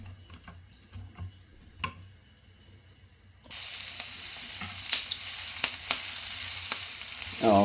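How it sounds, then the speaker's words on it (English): Onions for corned beef hash fry in a pan: quiet ticking and faint pops at first, then a sudden loud steady sizzle with scattered crackles, close and without talk. "we're going to fry those until they're translucent"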